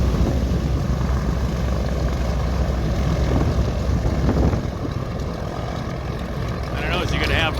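Steady, loud propeller airplane engine drone as the aircraft taxis at Felts Field airfield, nearby and continuous with a slight dip midway.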